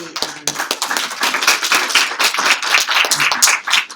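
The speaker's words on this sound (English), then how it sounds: "I just want to give them a round of applause" Families at a writing workshop applaud, a close, lively round of clapping with individual sharp claps standing out through the whole stretch.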